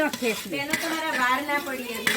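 Curry leaves hit hot oil in a tempering for khichdi, producing a close, crackling sizzle with stirring scrapes against the pan that continues briefly without pause.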